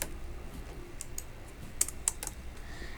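Keys on a computer keyboard tap in a short loose run, close and fairly quiet, with two sharper clicks near the end and no talking.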